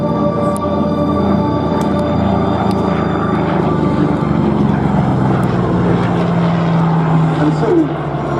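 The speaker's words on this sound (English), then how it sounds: "Its Pratt & Whitney R2800 engine was the most powerful and biggest capacity engine of any fighter at the time" A Vought F4U Corsair fighter with its Pratt & Whitney R2800 radial engine at a Duxford airshow gives a loud, steady, throbbing drone that holds for the whole stretch, with a voice partly heard over it.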